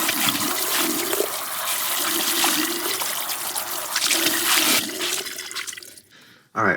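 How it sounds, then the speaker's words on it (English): Pre-treated shirt rinsed under a running tap of cool water before dyeing; a steady, loud rush of water flows for several seconds, then cuts off abruptly near the end. "what I'm doing is I'm just going to rinse it in some cool water and then put it inside the dye."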